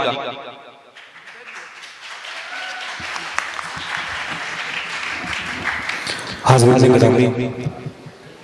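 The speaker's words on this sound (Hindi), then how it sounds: "जोरदार तालियों के बीच इस्तकबाल कीजिए अपने महबूब शायर जनाब रजब अली शेरवानी का" Applause from a mushaira audience at the Phoolpur All India Mushaira swells steadily into a dense, sustained crowd clapping that rises to a loud peak near the end.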